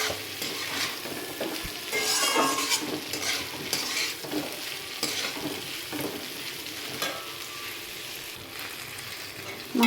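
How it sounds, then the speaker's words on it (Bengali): Fish and spices sizzle in a pan as a Bengali fish dish is cooked down, with a spatula stirring and scraping in irregular strokes, clinking lightly against the cookware, close and steady. "মাছটা আমি মশলার সাথে ভালোভাবে কষিয়ে নিয়েছি।"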